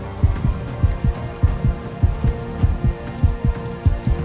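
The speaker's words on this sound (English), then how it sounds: "we can't have our heart beating like this" Steady game heartbeat from Eclipse 2 Invasion of Darkness, a low thudding double pulse repeating about every half second over a soft droning hum, with no voices.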